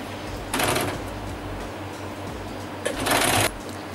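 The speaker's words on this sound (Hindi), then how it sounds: "इस बिब को तैयार करने के लिए इसको हर तरफ से 3 तरफ से इसको मोड़ लूँगी। इस तरह से, इस तरह से और इस तरह से सिंगल सिंगल मोड़ की सिलाई लगा दूँगी।" A sewing machine stitches a folded hem on a small bib in two quick bursts of under a second each, set against a low background hum.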